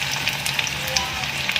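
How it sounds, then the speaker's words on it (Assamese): Chopped onion sizzles in hot oil in a wok for fried rice, a steady, close crackling hiss with small pops throughout and a low murmur underneath. "তেল গৰম হ'লত মই এই কাটি লোৱা পিঁয়াজটো দি দিছোঁ"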